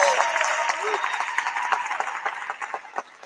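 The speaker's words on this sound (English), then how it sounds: "give her a round of applause" Audience at a university event applauding a women's basketball coach, a dense burst of clapping that gradually thins and fades over a few seconds.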